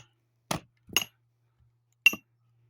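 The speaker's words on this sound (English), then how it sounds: "Dad's using a wedge and a smaller sledgehammer." A smaller sledgehammer strikes a metal wedge while splitting wood outdoors, giving three sharp, ringing metallic clanks: two close together, then one more after a pause.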